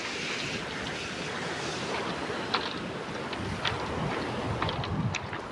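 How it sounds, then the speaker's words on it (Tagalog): Ocean waves wash against a rocky beach at Tahuhura, a steady broadband surf roar with wind buffeting the microphone and a few brief splashes standing out near the end. "So, dito na kami sa tabing dagat."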